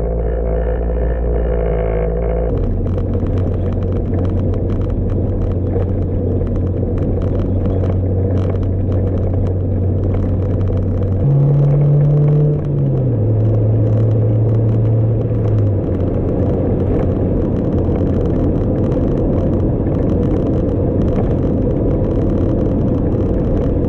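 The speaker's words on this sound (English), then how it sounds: "we're just gonna get this car down and give it a test drive" A 1999 Honda Civic fitted with new MaxpeedingRods T6 SP1 coilovers drives on the road, its engine and road noise holding a steady low rumble throughout, with a brief rise in engine pitch partway through the drive.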